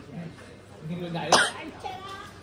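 A single sharp cough bursts out at a gathering where friends are joking around, brief and close, with chatter and talk continuing around it.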